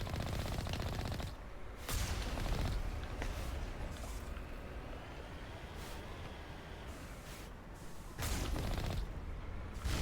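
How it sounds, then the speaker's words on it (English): Turret gunfire in the video game Mass Effect, dense rapid bursts that continue nearly throughout, with short gaps between volleys, loud and close with no talk. "of course there's turrets everywhere"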